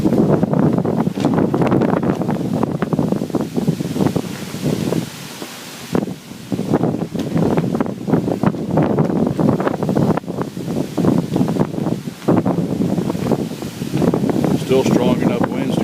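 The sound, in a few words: heavy straight wind from the north during tornado warning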